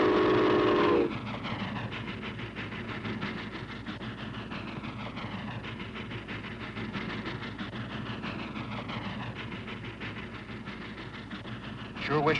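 A train rumbles past with a steady heavy rattle and rhythmic clacking, opening with a brief whistle-like tone at the start.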